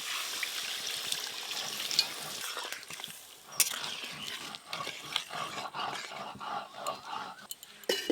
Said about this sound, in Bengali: আলু খুব ভালো করে কষে নিয়েছি, এবার জল দিয়ে দেব